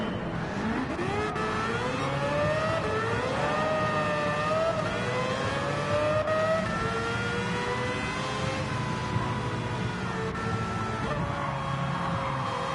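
A car's engine revs and strains continuously as it drives through sand, rising and falling in pitch over a steady rough roar with no break, close and fairly loud.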